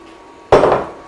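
Chopped brinjal tipped into a cooking pot for tamarind curry, a single sudden close clattering thud that fades over about half a second.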